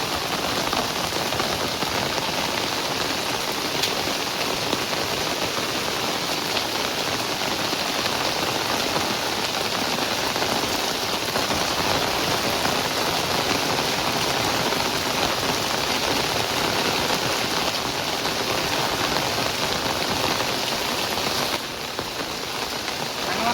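Heavy rain pours steadily on a vehicle being washed outdoors in a village, a dense continuous hiss with no pauses, loud and close throughout.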